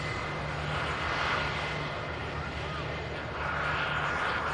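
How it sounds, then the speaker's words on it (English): Turkish Airlines airliner with IAE jet engines at Manchester Airport, a steady broad roar with a faint whine, sustained and fairly loud throughout at a moderate distance. "Lovely sound then from the IAE engines on the Turkish Airlines"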